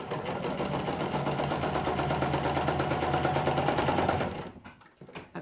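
A sewing machine stitches across an apron strap, a fast steady mechanical chatter for about four seconds that stops abruptly, followed by a few light clicks.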